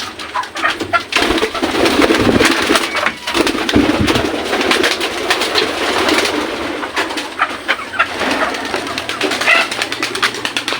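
Pigeons in a loft cooing softly amid rustling and wing flutters, with occasional woody knocks and clatter nearby; no talk.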